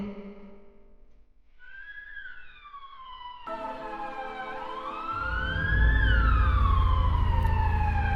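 An ambulance siren wails in long rising and falling sweeps, growing louder and closer until a low engine rumble swells beneath it near the end; no one speaks.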